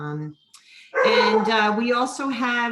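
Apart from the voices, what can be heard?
dog barking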